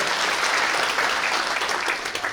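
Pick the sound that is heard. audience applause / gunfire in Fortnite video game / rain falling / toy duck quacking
audience applause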